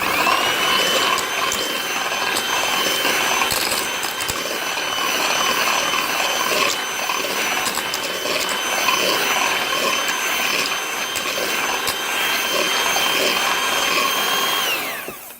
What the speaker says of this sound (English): I'm gonna go ahead and mix this in real quick